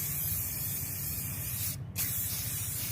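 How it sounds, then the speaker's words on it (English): Spray paint hisses steadily from an aerosol can onto a shoe set on a paper bag outdoors, a continuous close spray with a brief pause near the end before resuming. "just start spraying"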